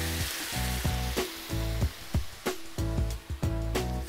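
Wine hits sizzling garlic in a paella pan while cooking chicken paella. A steady, bright frying hiss runs throughout with a few stirring clunks, under background music.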